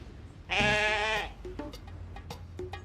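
A person lets out one long, nasal bleat imitating a sheep, followed by quiet shuffling and a few small knocks.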